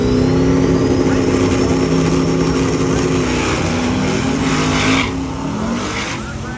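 Drag race car with a 427 cubic inch LS engine and a pair of small turbos launching at Northern Michigan Dragway during Sick Week: a loud, sustained engine roar with tire squeal that holds steady, then eases off and fades after about five seconds.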